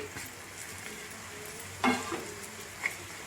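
Roselle flowers fry in a pan with tamarind, turmeric and red chilli, making a soft, low sizzle broken by a couple of sharp stirring clinks and scrapes, with nobody speaking.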